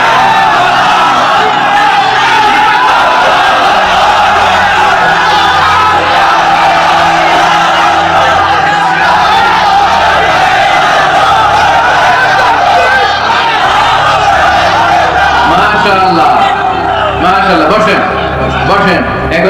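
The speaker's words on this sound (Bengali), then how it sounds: "তাকবীর দেন তো একজন আওয়াজ করে" A large crowd at an outdoor religious sermon loudly calling the takbir in unison: sustained, full-throated massed voices, swelling and rolling as one loud chant over several seconds, with a leader's voice among them.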